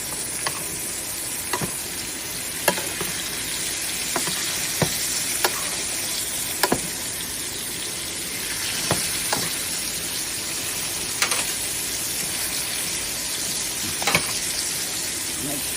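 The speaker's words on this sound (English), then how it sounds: "I'm just gonna start basting her." A steak sizzles steadily in a hot pan while being basted, a constant loud fry with scattered sharp pops and spoon clinks throughout, no talk.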